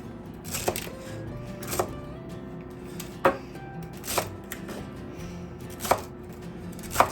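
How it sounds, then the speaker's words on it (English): Celery being chopped with a knife on a cutting board in a home kitchen, six or seven sharp, distinct knife strikes spaced irregularly over a low steady background, no talking. "So we're gonna cut up some celery,"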